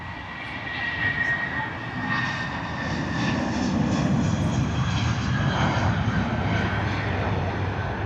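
An Airbus A320 departing Heathrow's runway 27R bound for Edinburgh roars with a loud jet engine rumble that swells and holds steady as it climbs away, with a faint voice briefly under it.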